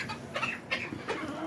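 Backyard hens in a warm enclosed coop cluck in short, close bursts, several birds overlapping in a busy, continuous murmur of low calls.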